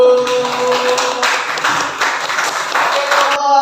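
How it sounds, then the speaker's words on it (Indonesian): Students in a classroom applaud a group that has just finished its presentation, with steady, fairly loud clapping from many hands that carries on throughout and then stops abruptly. "Kita tepuk tangan dulu."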